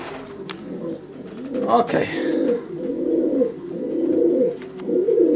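Racing pigeons coo in soft, repeated low calls close by, with a brief spoken word and a flutter partway through.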